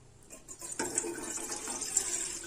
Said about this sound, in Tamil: தண்ணி ஊற்றிருக்கேன்